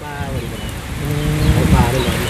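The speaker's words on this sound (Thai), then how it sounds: "ฝนตก" Rain falls in a steady, dense hiss for a couple of seconds, loud and close, with a voice faintly audible under it.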